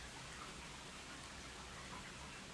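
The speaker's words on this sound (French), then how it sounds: "Quelle belle pluie on a dans le Vaud today." Steady, faint rain falling outdoors in the Vaud region, an even continuous hiss of drops with no voices.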